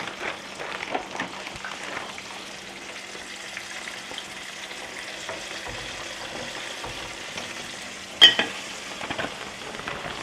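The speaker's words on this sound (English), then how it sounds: "We want to fry those until they're fully cooked, golden brown on the outside." Chicken pieces sizzle and crackle steadily in hot oil, a continuous fizzing hiss with one brief sharper pop.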